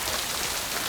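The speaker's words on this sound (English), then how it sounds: "a bleak rainstorm with thunder rumbling" Steady, dense rain pours down in a bleak rainstorm scene from a drama, a loud unbroken wash of falling water with no voices.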